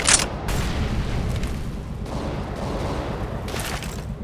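An incendiary grenade goes off in Counter-Strike: Global Offensive: a sharp burst at the start, then a sustained roaring crackle of fire with further bursts layered over the rumble, heard up close with no talk.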